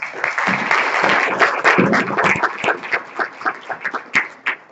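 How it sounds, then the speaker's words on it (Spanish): A conference audience claps for the panelists in a loud burst of applause that thins into scattered, separate claps and then fades out. "primero quisiera pedirles un aplauso para nuestros panelistas"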